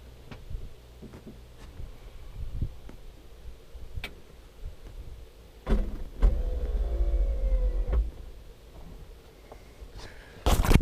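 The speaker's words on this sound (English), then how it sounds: "I'll raise up that stern drive again for you" Electric trim motor raising the stern drive on a 1977 OMC boat, a low whirring hum that starts and stops in short runs, with clicks between and a louder whine midway and at the end.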